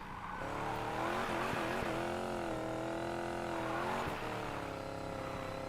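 A 1955 Bel Air in Need for Speed Payback drives up the road, its engine droning steadily and loud with pitch rising and dipping through gear changes and throttle shifts, brief tire squeals along the way.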